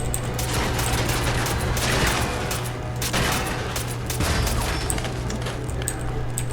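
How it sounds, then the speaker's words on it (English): Rapid gunfire from shooting enemies in the video game Fallout 4, dense bursts of shots in quick succession, loud and close, with no speech. "I'm going through, I'm shooting these guys."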